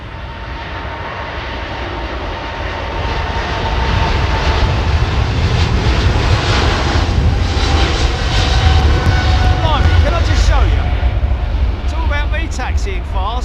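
A jet airliner taxis fast at London Heathrow Airport, a continuous roaring engine drone that swells and holds steady, with people talking over it.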